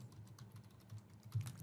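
Keystrokes on a computer keyboard tap out a short burst of text, quiet and close, with uneven clicks and one slightly heavier press near the end.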